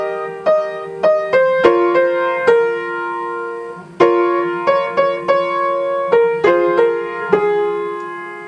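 Piano-like chords ring out in a steady repeated arpeggiated figure, struck notes decaying between attacks, played close and loud without any speaking over them.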